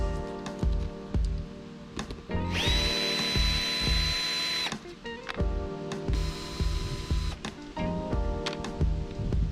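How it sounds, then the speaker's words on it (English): Power driver backing out stainless steel panhead screws from a garden railway trackbed, repeated close whirring bursts with a rising whine, separated by clicks and short pauses. "It's held down by stainless steel panhead screws every 300mm or so. A power driver makes that very quick and easy."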